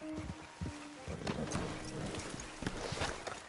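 Horse hooves clip-clopping on the ground in the video game Red Dead Redemption 2, a steady irregular trotting rhythm close by with game ambience behind it.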